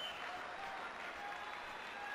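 A crowd applauds at a judo match, with faint, dense and steady clapping that continues evenly without pause.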